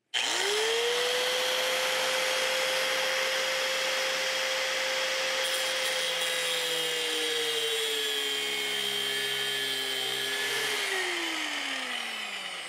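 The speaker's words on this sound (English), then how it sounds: "we're gonna drill a hole and put inserts in" A power drill bores a hole through the thin metal post of a kayak trailer, giving a loud, steady whine that runs for about twelve seconds before the pitch sags as the bit slows near the end.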